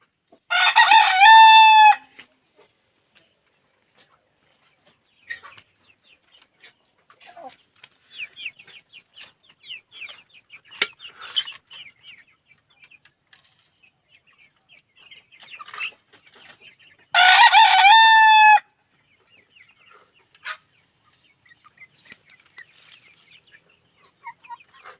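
A rooster crows loudly twice, well apart, while chickens, including Barred Plymouth Rocks, cluck and peck in scattered soft bursts as they are fed.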